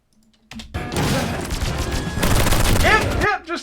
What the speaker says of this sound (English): So this is the SMG.